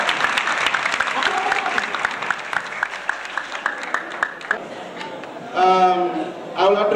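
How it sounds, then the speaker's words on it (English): Applause from an audience at a teacher recognition and award ceremony, a steady patter of clapping that fades, with voices breaking in briefly near the end. "I wasn't impressed with the clap you clapped for the principal."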